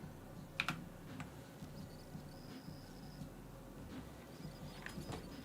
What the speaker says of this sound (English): I have a new keyboard with RGB lights